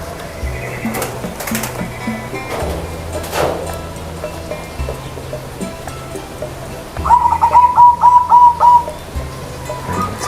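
A perkutut (zebra dove) being released outdoors gives a clear rhythmic series of coos, repeated notes close by, while background noise hums steadily.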